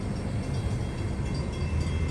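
A Long Island Rail Road M7 commuter train pulls out of Deer Park station with a steady, broad low rumble and rolling noise, fairly close and continuous, with no talking.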